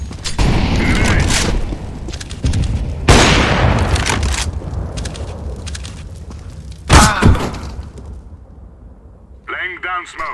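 Heavy thuds and booming grenade blasts in a Counter-Strike: Global Offensive round, with rumbling gunfire beneath, a sharp loud burst midway, and game voice callouts over the action.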